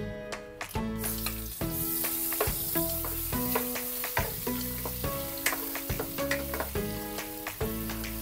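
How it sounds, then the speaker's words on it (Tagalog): Ginger sizzles and fries in oil in a pan, a steady loud crackle with occasional stirring clatter and scrapes throughout, no voices. "magigisa muna tayo dito ng luya"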